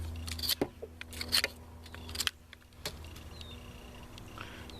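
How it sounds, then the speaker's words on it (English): A Frost Mora 2000 knife whittling and carving wood outdoors, giving several short, sharp cutting scrapes in quick bursts, close and fairly loud, followed by a quieter pause. "Cutting off large chunks of this like it's paper."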